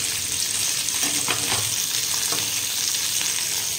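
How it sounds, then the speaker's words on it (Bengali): Paneer and capsicum pieces fry in a pan for a dish of kadai paneer, giving a steady, dense sizzle with occasional stirring scrapes, close and continuous with no voices. "পনিরটা আর ক্যাপসিকামটা একটু হালকা করে ভেজে নেব"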